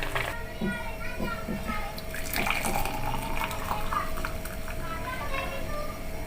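Homemade kadha herbal drink strained into a glass, a steady close pour of liquid splashing throughout, with muffled voices in the background.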